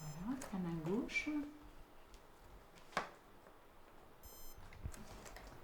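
Short electronic beeps from a small device, a few scattered over several seconds, with a person speaking at the start.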